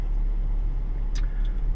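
A 2016 BMW X5 xDrive30d diesel SUV on the move, giving a steady low road rumble and engine drone with a brief faint higher tick near the end, no talk.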